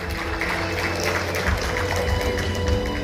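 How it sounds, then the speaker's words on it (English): An audience at an international nursing award ceremony applauds continuously, a thick, even wash of many hands clapping in a large hall that stays at a constant, fairly loud level throughout. "the applause can be a lot."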